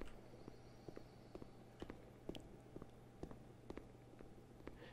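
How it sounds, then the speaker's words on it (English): Echoing footsteps in the video game The Beginner's Guide: faint, evenly spaced steps tap along at a walking pace over a quiet, low ambient hum. "The only sounds we can hear are the echoes of our footsteps, some birds singing."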